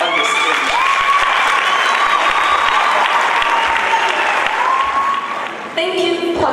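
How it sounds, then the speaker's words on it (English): An audience at a college event against gender-based violence gives warm, steady applause as a speaker is welcomed to the stage, a dense wash of clapping that drops away before a voice begins. "with the warmest hands of applause, could we please welcome Ms. O. Molelekwa on the stage"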